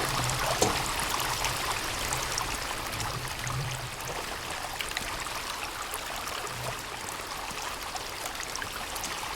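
A stream in the Sons of the Forest video game flows in a continuous broad rushing and trickling wash, steady and moderately quiet throughout, with no talk over it.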